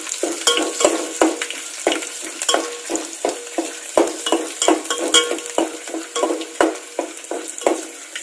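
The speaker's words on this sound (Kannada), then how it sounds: "ಕರಿಬೇವು ಹಾಕ್ತಾ ಇದ್ದೀನಿ ಈಗ ಕರಿಬೇವು ನೆಕ್ಸ್ಟ್ ಬೆಳ್ಳುಳ್ಳಿ ಹಾಕ್ತಾ ಇದ್ದೀನಿ ಒಂದು ಸ್ವಲ್ಪ ಬೆಳ್ಳುಳ್ಳಿ ಇದರಲ್ಲಿ ಫ್ರೈ ಆಗಲಿ" Curry leaves and garlic frying in oil over a low flame, a continuous sizzle broken by frequent sharp scrapes and taps of a spoon stirring the pan, close and fairly loud.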